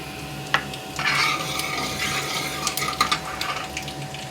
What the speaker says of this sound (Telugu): ఆయిల్ గరం అయ్యింది,